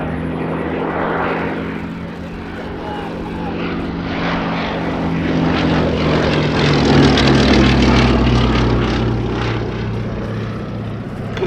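Westland Lysander propeller aircraft flying at an airshow at Old Warden under a dark sky, its piston engine drone steady and loud throughout, swelling slightly as it passes nearer midway.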